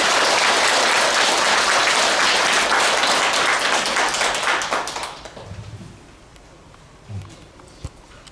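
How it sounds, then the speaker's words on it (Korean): Loud audience applause at a Buddhist dharma assembly welcoming a senior monk, sustained clapping that fades after about five seconds into a quiet hall with a few scattered sounds. "불자 여러분께서는 모두 큰 박수로 스님을 환영하겠습니다."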